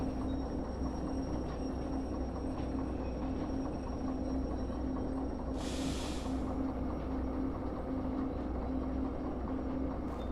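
A train in Derail Valley rumbles steadily with a low continuous drone, and a brief burst of air hiss from the brakes comes midway, fairly faint and with no voices.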